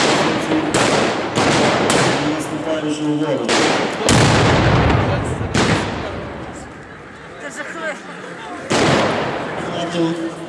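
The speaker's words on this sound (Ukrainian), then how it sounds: "підрозділ озброєний артилерійською гарматою, власне обстріл" Repeated loud booming artillery cannon shots ring out at irregular intervals during a Ukrainian historical battle reenactment, several blasts close together, with shouting voices and a noisy crowd underneath.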